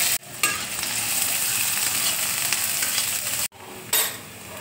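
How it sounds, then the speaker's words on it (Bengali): Chopped onions hit hot oil in a wok and sizzle steadily and loudly, with a brief pause and stirring scrapes as the frying continues up close. "কড়াইয়ে দেখো তেল দিয়েছি, তেল দেখো গরম হয়ে গেছে। এবার আমি পেঁয়াজ কুচি দিয়ে দিচ্ছি।"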